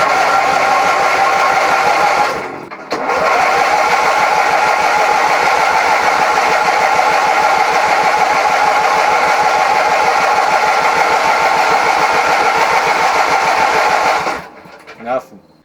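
An antique racing tractor engine cranks over without catching, a loud, steady rhythmic chugging that runs for about twelve seconds after a brief hitch near the start, then cuts off.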